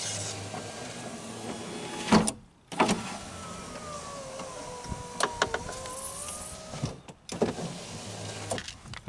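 Power window motor of a car whirring as the glass travels smoothly after being pushed back into its regulator clip, a steady mechanical hum over several seconds, preceded and followed by a few sharp clunks.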